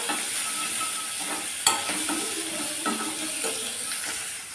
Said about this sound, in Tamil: ஒரு மீடியம் சைஸ் பெரிய வெங்காயம் பொடியாக கட் பண்ணி வச்சுருக்கேன் அதையும் சேர்த்துடலாம் இதை நல்லா வதக்கி விட்டுறலாம்